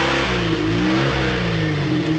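A car engine revs hard close by as it pulls away, a steady, throaty drone whose pitch climbs and wavers throughout with no voices over it.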